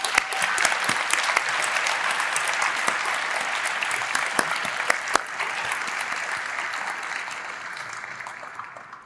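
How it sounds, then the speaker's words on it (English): Sustained audience applause at a diploma ceremony honoring a staff member's 20 years of service, a loud dense roar of many hands clapping with sharp individual claps popping out, tapering slightly toward the end. "give Dena a round of applause for what she's accomplished for the last 20 years"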